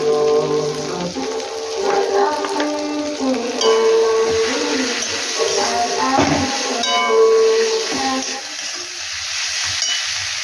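Parse fish frying in a pan with turmeric and chili powder, a steady sizzle with stirring and scraping, loud and close, with faint tonal sounds in the background.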